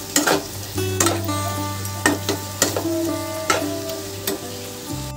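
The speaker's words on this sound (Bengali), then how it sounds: "এবার এগুলোকে একটু মশলার সাথে ভালো করে কষিয়ে নেব টমেটো আর ক্যাপসিকামটা।" Chopped tomato and capsicum sauté with spices in a pan for paneer bhurji: a bright, continuous sizzle broken by repeated sharp scrapes of a spatula stirring the mix.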